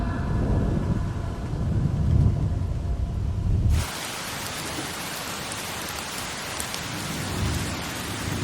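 Heavy rain pours steadily in a film scene with thunder rumbling, loud and continuous, the downpour shifting from a deep rumbling wash to a brighter, hissing patter partway through.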